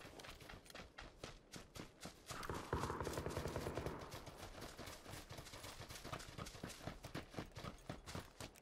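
Gunfire from a squad battle royale match in PUBG sounds as a rapid run of sharp, fairly distant shots with steady clicking footsteps or movement noises throughout, and no talk over it.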